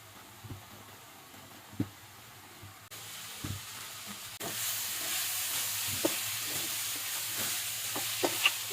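Oil added to a pan of soft, cooked drumstick leaves: a quiet hiss jumps to a louder steady sizzle partway through, with scattered stirring clicks.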